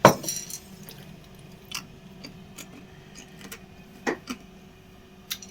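Dried sun-dried tomato pieces drop onto a plate one at a time, making a few sparse, light clicks and clinks against a quiet room background with long gaps between them.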